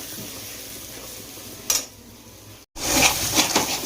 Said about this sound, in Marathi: आता हा मसाला पण आपल्याला ह्याच्यात असा हलवून घ्यायचा